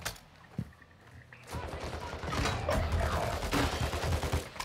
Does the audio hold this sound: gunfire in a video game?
yes